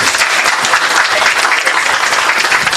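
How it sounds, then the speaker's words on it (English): Audience applause at a community board public hearing, steady dense clapping from a room of people that fills the whole stretch without a break. "Let's give them a round of applause."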